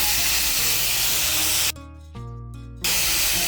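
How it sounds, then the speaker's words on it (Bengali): Grated pointed gourd fries with spices in a pan, giving a loud, close, steamy hiss that briefly drops out and then returns. "গ্রেট করা পটলটাকে মিশিয়ে নেব মশলার সঙ্গে।"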